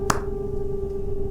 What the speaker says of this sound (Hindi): फिर आवाज आई ताली की।